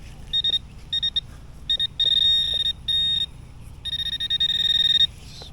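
A metal detector sounds a high, steady electronic tone over a small buried target, coming in repeated short bursts and longer held beeps with brief gaps, clear and close against quiet outdoor background.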